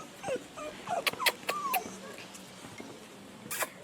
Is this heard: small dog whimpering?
yes